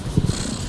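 A short, low rumbling purr from a cat, soft and close, with a few rhythmic pulses and no voices.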